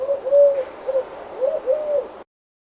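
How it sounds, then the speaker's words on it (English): Dove cooing in a series of soft, rounded hoots, several calls in a rising and falling rhythm, close and clear with no other sound, ending abruptly. "Dove."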